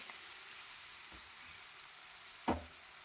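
Cut potatoes fry quietly in a pan, a faint steady hiss running under two soft scraping stirs, the second a louder clatter near the end, with no talking.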